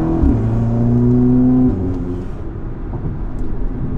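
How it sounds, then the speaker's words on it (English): Inside a car fitted with a cut-open, modified exhaust, the engine revs up loudly with a rising growl, then drops back to a lower rumble as it settles, with no talking. "So you can tell just from the inside of the car, we do have more tone."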